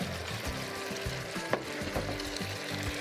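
Pre-fried chicken going into a pan of onion and spice frying in oil, a close, steady sizzle broken by scraping stir sounds and a few sharp clatters.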